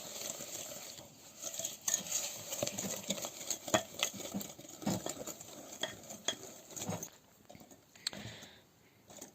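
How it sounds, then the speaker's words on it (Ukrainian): Sugar and eggs are stirred together in a bowl for a marble cake batter, with quiet, irregular clinks and scrapes of a utensil against the bowl and no talking. "Тепер цукор з яйцями добре розмішуємо."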